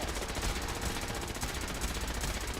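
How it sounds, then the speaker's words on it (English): A broken turret in Fallout 4 gives off dense, continuous rapid-fire rattling, like a fast machine-gun burst that runs unbroken and loud for the whole stretch. "And now we got the broken turret noise."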